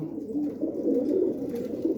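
Domestic pigeons kept on rooftop lofts for sale coo in a continuous low, throaty murmur, several birds overlapping close by with no clear pauses.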